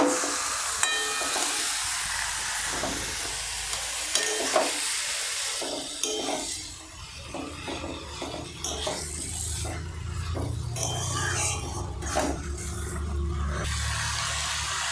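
Marinated chicken pieces for Bengali chicken kosha drop into a hot pan and fry with a steady loud sizzle and hiss, broken by scraping stirs and clatters of the spoon against the pan; no one speaks.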